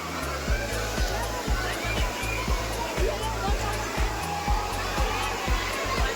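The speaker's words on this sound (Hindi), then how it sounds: "ये ठंडे पानी का झरना ऊपर से नीचे आ रहा है" Cold water from the Kakolat waterfall in Bihar pours down from above in a steady, loud rushing roar, with a crowd of bathers faintly present beneath and soft regular thumps recurring throughout.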